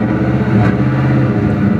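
A Crown Victoria P71 police sedan with a 4.6-litre two-valve V8 and an added turbocharger is revved, giving a loud, steady, harmonic engine drone that stays close and continuous with no speech.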